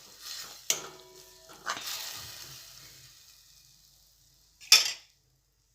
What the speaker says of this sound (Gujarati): आने पण आपणे सातળी लईशुं એટલે ટામેટા સરસ ચડી જાય